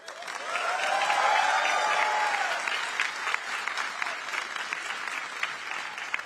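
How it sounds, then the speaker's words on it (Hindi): A Paris auditorium audience breaks into loud, sustained applause that swells quickly and holds steady as a dense wash of clapping from many hands. "इस बयान पर पेरिस का पूरा ऑडिटोरियम तालियों की गड़गड़ाहट से गूंज उठा।"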